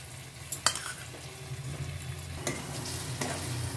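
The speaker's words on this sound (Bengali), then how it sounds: "একটু গ্যাসটা কমিয়ে টক দইটা দিলাম। এখন একটু 2 মিনিটের মতো কষিয়ে নেব" Whisked sour yogurt being stirred into a spiced cauliflower curry over low heat, a soft sizzle with a few spoon clicks and scrapes against the pan.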